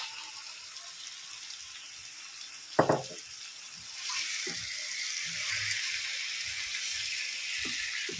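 Chicken pieces drop into a hot pan with spices for dhaniya chicken: a quick clatter, then a steady close sizzling hiss that holds to the end, broken by a few light scrapes.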